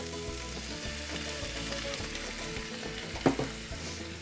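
Apple cider vinegar hitting a hot frying pan of softened beans for homemade refried beans, a steady close sizzle and crackle with a brief sharper spit near the end, no voices.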